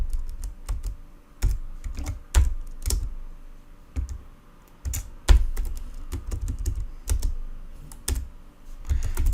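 Fingers type on a computer keyboard in a steady, close patter of clicks with occasional harder key strikes, and no one speaks.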